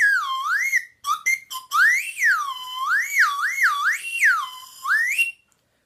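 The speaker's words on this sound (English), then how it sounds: "I felt like you guys weren't getting the full effect of the whistle pop because I played it for you half eaten." A whistle pop candy whistle is blown alone in a series of sliding, rising and falling shrill tones, with a few short staccato toots early on, played like a simple tune and ending abruptly.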